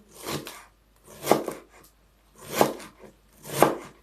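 A knife slices through cabbage on a board while a vegetable dish with rice is being prepared, giving three or four close, crunchy cuts spaced about a second apart with quiet gaps between them.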